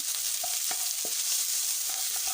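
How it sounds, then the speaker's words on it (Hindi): Chopped onions frying in a pan for a potato karahi: a constant close hiss of sizzling oil with a few light stirring scrapes, and no talking. "अब हम इसमें कटी हुई प्याज फ्राई करेंगे"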